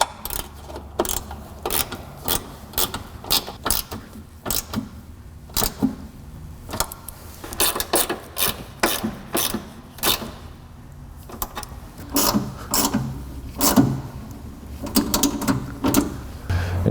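Hand tools tightening bolts on aftermarket projector beam headlights, a ratchet clicking in rapid repeated strokes with short pauses between bursts, close and clear.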